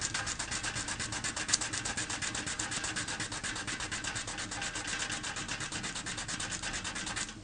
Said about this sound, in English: Take some 100 grit sandpaper.